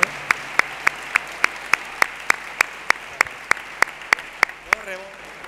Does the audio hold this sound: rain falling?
no